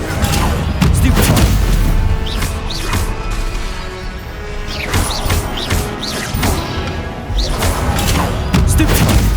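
Spell combat in the Hogwarts Legacy video game: repeated loud booming blasts and crashing impacts in rapid succession, with a voice calling out spell incantations over the continuous game effects.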